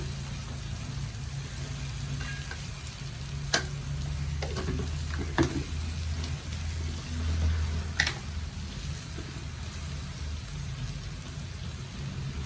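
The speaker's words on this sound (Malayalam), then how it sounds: "ഇത് നന്നായിട്ട് ഒന്ന് മൂപ്പിച്ചെടുക്കാം" Chili and coriander powder fry in a pan for squid masala, making a steady, close sizzle with a few sharp clicks of stirring against the pan.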